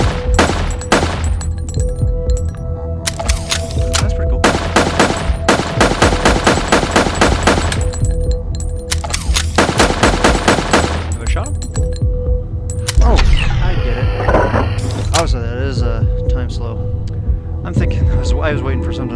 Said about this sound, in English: I literally was shooting out the panels because they were blocking my path